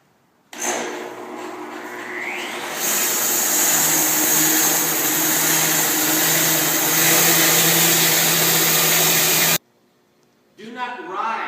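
A sawmill bandsaw starts with a sudden whine that climbs in pitch, then runs as a loud, steady mechanical roar for several seconds before cutting off abruptly; a voice follows briefly afterward.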